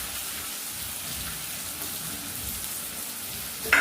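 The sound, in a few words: chopped tomato frying with onion and spices for mutton curry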